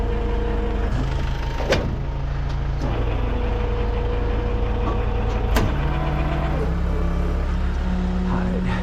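Lowered Nissan 240 idling on a tow setup, the engine steadily rumbling near and loud as revs are raised, with brief clicks and shifting engine tones throughout.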